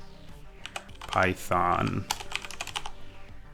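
Keystrokes on a Mac keyboard as a terminal command is typed, a quick run of sharp clicks with someone speaking briefly over them midway.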